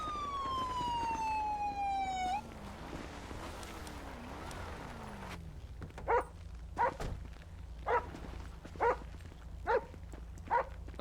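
Police dog in a GTA roleplay pursuit, barking in a steady series of about six sharp, evenly spaced barks, following a siren that sweeps down and fades out.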